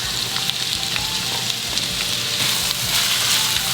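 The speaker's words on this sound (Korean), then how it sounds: "양파를 넣어 주고요, 버섯도 넣어줍니다." Onion and mushrooms stir-frying in oil in a pan, a steady close sizzle with light scraping of stirring throughout, no voices.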